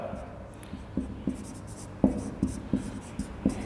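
A pen writing an example on paper during a Hindi literature lesson, with a rhythmic series of short tapping and scratching strokes close by while someone talks over them.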